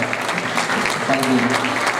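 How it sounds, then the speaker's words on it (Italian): A crowd claps steadily in a dense burst of applause, fairly loud, with a voice faintly underneath. "Volevo un altro applauso per il Ciro"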